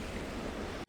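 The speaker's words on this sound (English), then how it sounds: "The only sound that existed was the heavy, rhythmic crashing of the waves against the black sand" Heavy waves crash onto a black sand beach on a remote Japanese shore, a dense, loud roar of surf with wind-like hiss that runs continuously before cutting off abruptly at the end.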